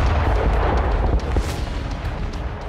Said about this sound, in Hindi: जबरदस्त धमाके की वजह से पूरा इलाका भस्म हो गया